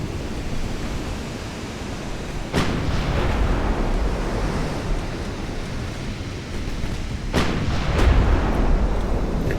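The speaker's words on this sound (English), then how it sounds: "It does take quite a while to eat through the ammo when you're only shooting one shot at a time." Naval guns in the Ultimate Admiral Dreadnoughts warship game fire single shots, two heavy booming reports several seconds apart over a constant roar of sea and wind noise.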